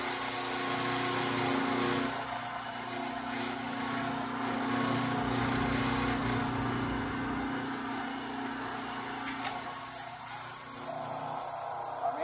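A wire stripping machine runs steadily, stripping insulation off wire in one pass, with a continuous motorized whir and a brief sharp click near the end.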